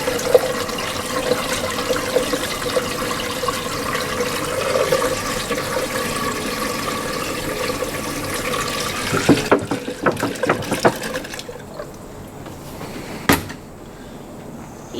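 Collected rainwater poured from a gallon container into a small homemade hydroelectric generator makes a steady splashing, gurgling pour for several seconds, then breaks into a few sharp knocks and clunks as the flow trails off.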